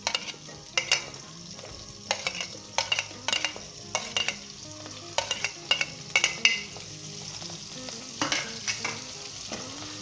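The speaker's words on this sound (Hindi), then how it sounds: "प्याज को हम जो है लाइट गोल्डन ब्राउन करेंगे।" Onions frying in hot oil toward light golden brown, steady sizzle under repeated sharp scrapes and clinks of a spoon stirring against the pan, close by with no talking.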